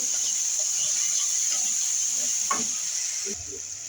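Fish curry sizzles steadily in a pan after salt and turmeric go in, with a constant hiss of frying and a few soft scrapes of stirring near the end.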